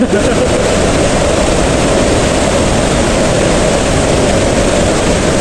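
Loud, constant roaring rush of Ditumabo Mother Falls in Baler, Philippines, dense and unbroken throughout, close by with no pauses.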